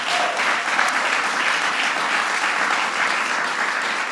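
An audience at the White House Children's Film Fest gives a big round of applause, steady and full for about four seconds with no voices on top.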